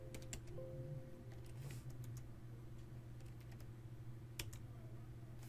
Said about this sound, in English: And then we're going to type in layer 2 VPN.